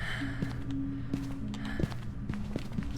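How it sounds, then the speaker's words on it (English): Ghost footsteps during a hunt in the video game Phasmophobia: a run of evenly spaced thuds over a droning background hum, moderately loud. "Alright, listen to the footsteps."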